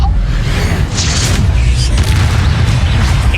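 Explosive spell bursting in Hogwarts Legacy, a loud deep boom with low rumble that fills the whole moment, no voices over it.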